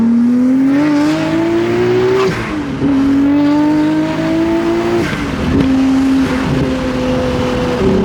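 A Nissan Skyline R34 GTR engine revs hard and climbs through the gears while driving on back roads, loud and close, with rising pitch sweeps broken by brief dips at each shift and no talking.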